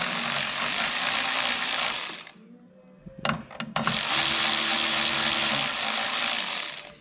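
A ratchet tightens a bolt on a utility trailer, used as a ground point for an LED wiring terminal. Loud, continuous clicking runs for about two seconds, breaks off with a few sharp knocks, then resumes in a steady stretch.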